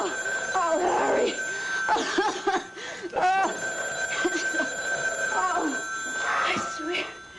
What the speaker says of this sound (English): Harry, it's the phone. The phone!